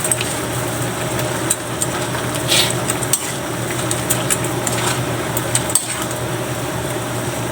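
Sautéed pechay being stirred in a frying pan, a steady sizzle with light scraping and clinks of the utensil against the pan, close and continuous.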